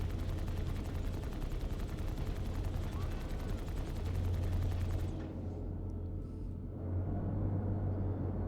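Sustained weapons fire in the space game Star Citizen, a dense, rapid rattling over a low engine rumble that cuts off abruptly partway through, leaving the rumble before it swells again.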